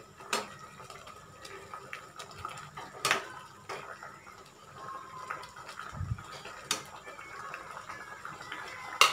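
Garam masala being stirred into an egg omelette curry in a pan, with scattered utensil clinks and scrapes against the pan over a soft, low simmer, close and fairly quiet.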